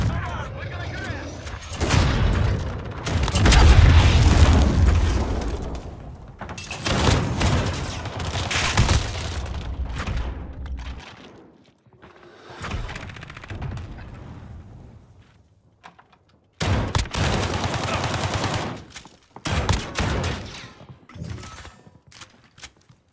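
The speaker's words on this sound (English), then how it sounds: "Trying to shoot down the VTOL and shoot me." Video game gunfire and explosions as shots are fired at a VTOL aircraft: loud bursts of rapid shooting and heavy booms in several long stretches with short lulls between them, and a voice talking over parts of the action.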